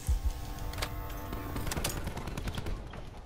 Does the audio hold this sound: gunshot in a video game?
yes